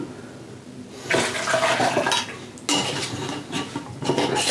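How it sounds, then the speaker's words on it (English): Moonshine and peanut butter slosh and splash inside a glass jar with clinking against the sides, coming in a few bursts of mixing close by. "And I'll pour the rest of the shine in and I'll mix it up in there."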